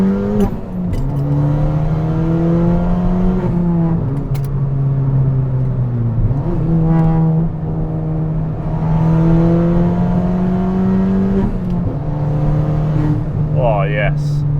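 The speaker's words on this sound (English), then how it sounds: "let you guys listen to this beast as we go through the gears, round some turns" Straight-piped Ford Fiesta ST engine, deafeningly loud and close, droning steadily as it pulls up through the gears with distinct shift dips on twisty roads, tone rising and falling with each gear change.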